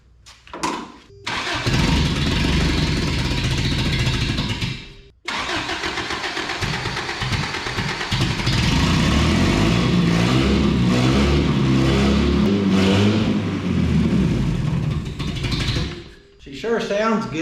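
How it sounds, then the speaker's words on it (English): A 1993 Toyota pickup engine, fuel-injected, cranks and fires, then revs strongly and steadily for over ten seconds up close before dropping back, with a brief pause mid-run. "Sure sounds good as far as the motor and revving and everything right there."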